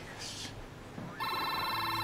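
A telephone rings in a tense scene from a police drama series, the electronic ring starting partway through and holding steady and fairly clear after a moment of background noise.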